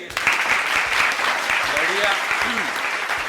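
A student audience claps in dense, sustained applause at a school event, loud and continuous, with people talking and calling out underneath.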